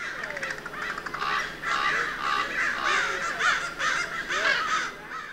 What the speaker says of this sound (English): listen in this next segment and you'll hear crows clicking and cawing and one raven going